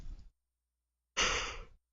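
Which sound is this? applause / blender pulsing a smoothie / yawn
yawn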